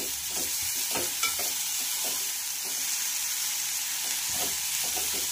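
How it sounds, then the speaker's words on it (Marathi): Prawns sizzle in hot oil with golden-fried onion for a dry prawn chutney, a steady, close crackling hiss broken by occasional stirring scrapes. "यावर आपल्याला घालायचे आहेत झिंगे आणि छान असं आपल्याला याला फ्राय करून घ्यायचं आहे"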